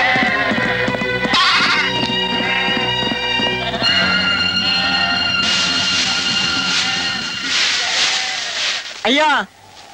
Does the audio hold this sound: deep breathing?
no